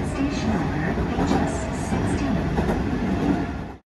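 A Hanshin train runs toward Imazu station, a steady rumble of railcars heard from inside with rail noise throughout, then cut off abruptly, while a voice speaks over it.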